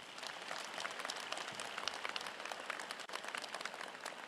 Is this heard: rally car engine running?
no